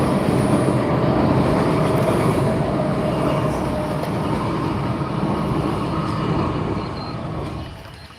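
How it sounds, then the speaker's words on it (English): A train passes nearby with a loud, continuous rumble and rattling roar that holds steady for several seconds, then slowly fades as it moves away. "hang on, there's a train."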